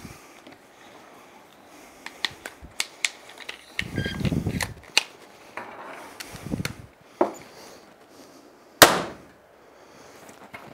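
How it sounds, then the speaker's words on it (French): A ManKung Jasper XB60 crossbow being cocked and fired, with scattered clicks, scrapes and rustles of handling, followed by one sharp, loud release snap near the end. "voilà le temps que ça prend pour armer et tirer avec l'arbalète"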